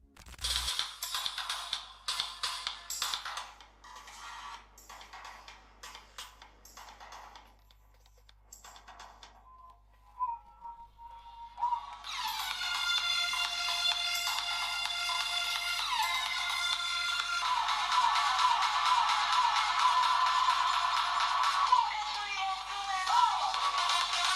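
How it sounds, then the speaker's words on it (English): Tinny music plays from the single speaker of a Meizu Mblu 22 smartphone, thin and bright, starting with clicks and sparse tones before a fuller, steady passage fills the rest. "On the 22, we have a single speaker that sounds like this."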